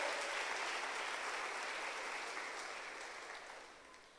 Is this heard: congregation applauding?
yes